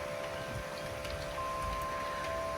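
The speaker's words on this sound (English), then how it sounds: "it's raining." Steady rain falls through a night thunderstorm, a soft, even hiss of drops on surfaces continuing without a break and no thunder clearly standing out.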